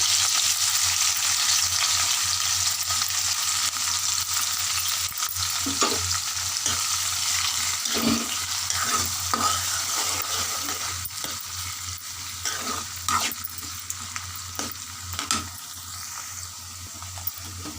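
Tomatoes, onions and green chillies frying in a pan, a continuous loud sizzle with scattered stirring knocks and scrapes that ease slightly toward the end; no talking.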